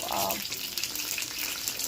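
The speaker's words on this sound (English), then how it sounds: "right now it's really splashing a lot of water because of all those fresh ingredients" A thick chicken patty made with fresh ingredients sizzles and splatters in hot oil, a loud, steady crackling hiss with bright spitting pops throughout and no clear speech.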